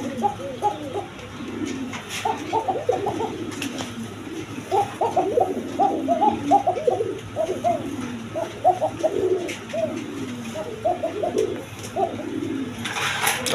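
Spanish pouter pigeons, both cocks and hens, cooing in repeated throaty bursts, overlapping and close by, with a steady low hum beneath and no talk.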